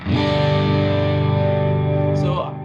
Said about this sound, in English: I have quite a bit of reverb on my guitar